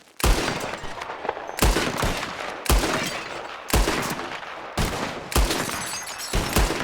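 Sharp revolver gunshots fired at bottles in the video game Red Dead Redemption 2, six loud cracks spaced about a second apart, each with a short echoing tail, and no talk between shots.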